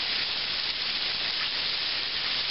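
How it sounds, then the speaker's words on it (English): Steady, dense sizzling hiss of battered chicken fried steak frying in a hot pan, constant and close with no talking. "you hear how the meat has quieted down a little bit, it's not frying quite as hard as earlier"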